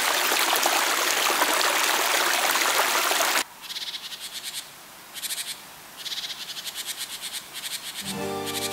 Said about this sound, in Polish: Trochę inny charakter mają wodospady na rzece Sopot.